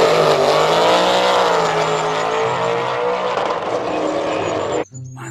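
A toy-style race car roars loudly with a rising, steady engine whine for about five seconds, close and continuous, then cuts off abruptly.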